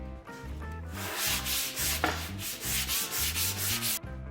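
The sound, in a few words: hand sanding a wooden cutting board with sandpaper on a block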